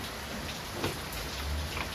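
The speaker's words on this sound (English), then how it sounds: "for the sake of the rain falling" Steady rain falling during a breakfast of fried roti, a soft continuous patter with faint drops against a surface, no voices.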